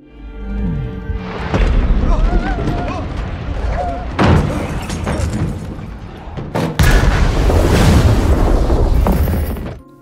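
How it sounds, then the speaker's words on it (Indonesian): A bomb goes off in a science-fiction film scene aboard a spacecraft, with loud booming blasts that burst in twice and then roar on under a layer of rumbling noise. "Bersamaan dengan itu, bom pun meledak."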